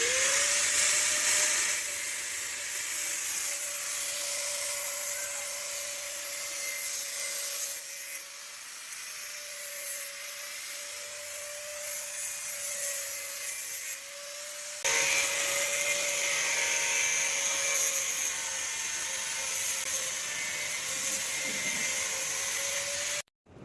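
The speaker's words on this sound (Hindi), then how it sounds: "अब हम ग्राइंडर से काटकर केबल के ऊपर का इंसुलेशन हटा लेना है।" An angle grinder cuts into industrial power cable insulation, holding a steady high whine with gritty rubbing noise, loud and close, briefly easing and then biting harder before stopping abruptly.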